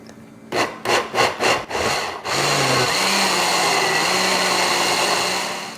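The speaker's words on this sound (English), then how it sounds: "we've blended everything up really nice, and it's nice and thick" A kitchen blender whirs through green chile verde salsa with garlic for wild hog pozole. Several short pulses come first, then a steady, loud blend runs close up with no talking.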